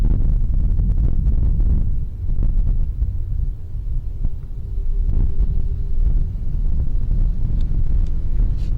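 Gusty night wind blows steadily outside a cave, buffeting the microphone with a continuous low rumble that swells and eases a little, with no voices.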